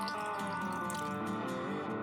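A cup of vinegar poured into a home canner makes a short, steady liquid stream of trickling, splashing water, close and continuous with no talk.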